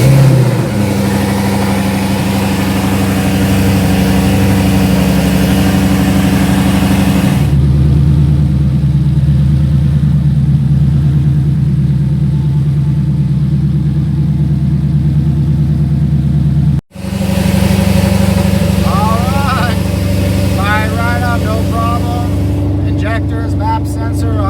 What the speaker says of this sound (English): Obviously, this is a loud car.